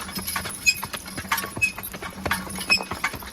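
Heavy draft horses working in a horse-logging setting stomp and place their hooves, giving irregular, fairly close thuds and clops over a few seconds with no talk.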